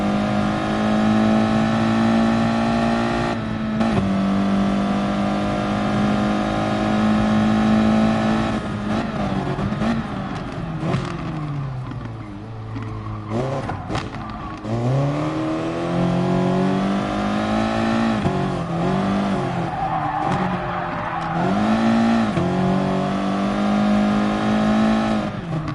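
Four-wheel-drive race car engines in a racing video game rev and hold high droning tones, dipping and climbing in pitch with gear changes over about twenty-five seconds, loud and continuous with no voices.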